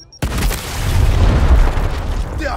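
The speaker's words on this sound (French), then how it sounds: "Gare à l'explosion!" A loud explosion in the video game Gears Tactics bursts in abruptly and rolls on as a heavy, sustained rumble, with a brief sharp effect near the end.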